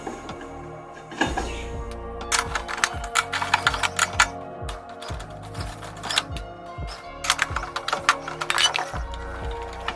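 Wheel bolts being loosened on a car during a punctured tire change, with a dense ratcheting clatter of a wrench in rapid bursts, close and fairly loud, pausing briefly between runs.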